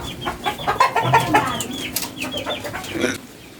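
Chickens cluck and squawk close by in a quick, irregular series of short calls, with a bit of wing flapping among them.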